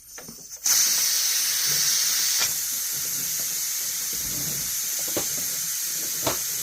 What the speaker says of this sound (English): Let all the steam out before opening the cover.